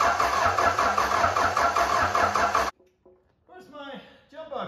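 A 4BT Cummins diesel engine, assembled from a pile of parts, cranks and runs loud and close for nearly three seconds, then cuts off abruptly; a voice and laughter follow in the quiet.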